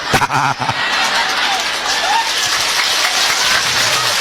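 An audience claps during a humorous Sundanese sermon, a dense sustained patter of many hands that starts abruptly and carries on steadily, with brief voices and laughter mixed in near the start.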